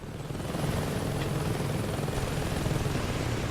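A helicopter in the video game Saints Row 2 gives a steady, dense rotor and engine drone, even and close throughout after a quick swell at the start.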